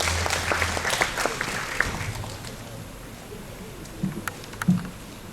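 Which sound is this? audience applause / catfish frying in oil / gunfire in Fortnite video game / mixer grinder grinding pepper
audience applause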